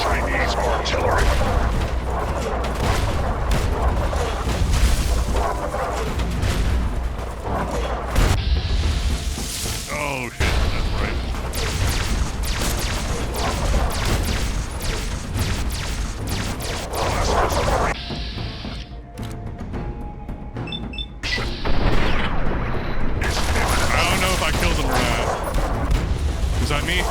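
Heavy gunfire bursts and booming artillery explosions crash through a battle in the video game Fallout 3, loud and dense with sharp impacts, rumbling blasts and brief quieter gaps, while voices talk and call out over the din.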